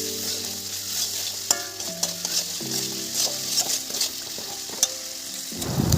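Masala being stir-fried in a pan, a steady sizzle with scraping stirring strokes and clinks, with faint background hum, no talk.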